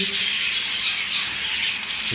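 Budgerigar chicks squawk and chirp in a steady, busy chorus, close and fairly loud, with no voices over them.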